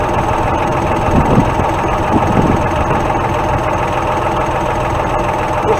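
A tractor engine idles steadily and loud, a continuous low drone with even vibration while a CAT-1 quick hitch is raised, no voices over it.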